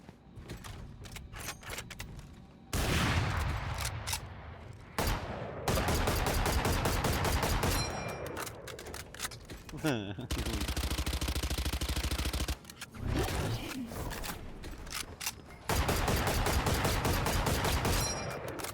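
Rapid gunfire bursts and clattering shell casings from a Valorant match, loud and dense with brief gaps between volleys, one long sustained automatic stretch in the middle, no voices.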